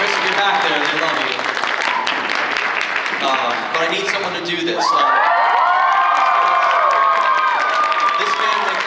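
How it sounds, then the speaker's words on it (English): An anime convention crowd at a closing ceremony bursts into loud applause, cheers and whoops, many hands and voices filling the hall close up while a voice speaks through the noise. "he deserves a big round of applause too"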